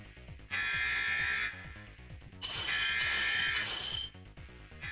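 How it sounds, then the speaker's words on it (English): An alarm blares in two long, harsh buzzing bursts, each lasting about a second or more, over a busy rhythmic background with a steady beat. "The alarms sound again, then Kojaku, Clear, and that guy appear."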